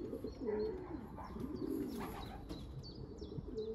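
Racing pigeons from a widowhood team coo repeatedly at their loft, low rolling coos close by and steady throughout, with a few thin chirps and faint chatter from other birds behind.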